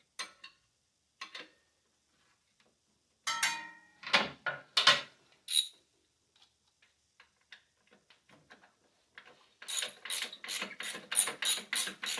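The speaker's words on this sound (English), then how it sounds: "you need a 15mm on a fairly long extension for the adjuster, and just back it out till you can get the belt off" A socket wrench on a 15mm long extension backing out the idler pulley adjuster on a Jeep 4.0 engine, scattered clicks and knocks first, then a fast regular run of ratcheting clicks, close and clear with no talking.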